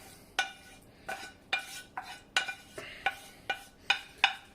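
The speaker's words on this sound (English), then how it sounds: "I'm going to get the onions going. Onions with the chili and garlic." Onions with chili and garlic scraped and stirred in a pan, about ten close, regular spoon strokes, each a sharp clatter that fades quickly, with no voices.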